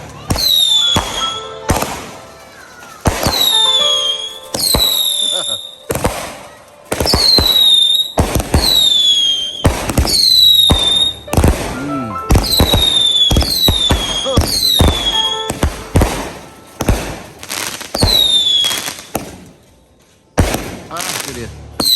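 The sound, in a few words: fireworks exploding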